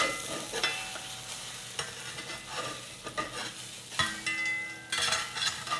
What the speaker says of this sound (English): We'll just take these eggs and flip them over.